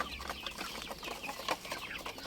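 Young five-to-six-month-old roosters clucking and calling in a continuous busy chorus, several birds close by with overlapping short calls.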